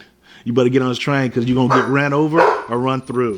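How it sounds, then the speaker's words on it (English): A pet dog barks in the background of a home recording, its yips mixed under a man's steady, close speech that continues throughout. "You can hear my dog calling in the background there."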